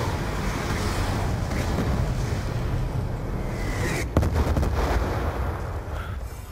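Gunfire in a Call of Duty Black Ops 2 multiplayer match, a sharp burst of shots cutting through a dense rumbling background of game ambience.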